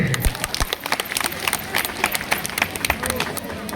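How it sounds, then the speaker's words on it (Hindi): Applause at a Bible quiz for a correct answer: a group of people clapping in quick, uneven bursts, fairly close and loud, with some voices in the background. "सही जवाब, ताली दीजिए।"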